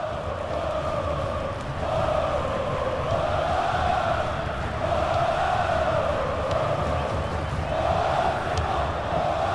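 Stadium crowd in FIFA 16 at a Brasileirão match between São Paulo and Coritiba, a steady roaring chant that swells and falls in waves, loud and continuous throughout.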